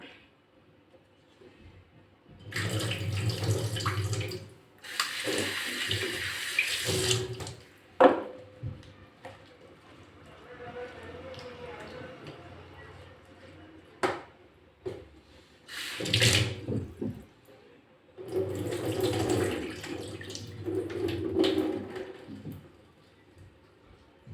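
A pumpkin is washed under a running kitchen tap, heard as several bursts of rushing water separated by quieter pauses with small handling noises.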